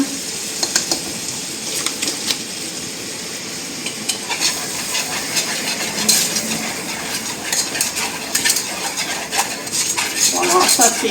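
A spoon stirs flour into melted fat in a pan to make a roux for a tomato and gherkin sauce, giving soft scraping and light clinks over a faint sizzle, close and uneven, with no speech.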